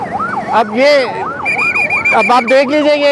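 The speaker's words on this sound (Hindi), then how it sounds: "पीछे 1112 की भाई एम्बुलेंस है, जगह दे दो, एम्बुलेंस है" An ambulance siren wails in repeated rising and falling sweeps on a congested Karachi road, loud and close, with a second higher siren tone joining partway through while someone talks over it.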